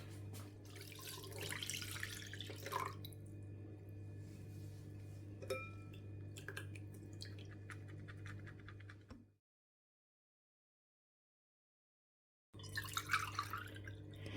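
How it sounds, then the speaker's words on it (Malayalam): Freshly squeezed lemon juice dripping and trickling through a strainer in a home kitchen, a steady close watery patter with light clinks of utensils, then a brief silence before the dripping resumes. "ഇനി നമുക്കിതൊന്ന് അരിച്ചെടുക്കാം."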